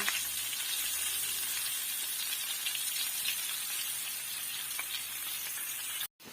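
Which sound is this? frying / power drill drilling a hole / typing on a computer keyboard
frying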